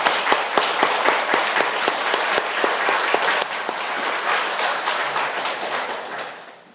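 Congregation applause of thanks at a Sunday church service, dense steady clapping from many hands that sounds close and loud, thinning slightly and fading out toward the end.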